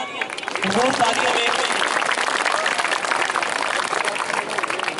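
A dense, steady wash of audience applause fills a farewell ceremony hall as the retiring principal is called up to speak. It starts within the first second and holds loud and even throughout, with no talk over it.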